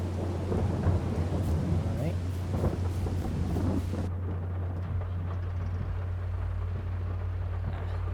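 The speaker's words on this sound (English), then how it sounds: "Lots of wind and rain today." Steady rain and wind in Farming Simulator, with low thunder rumbling through the whole stretch; the rain hiss thins partway through as a deep drone continues beneath.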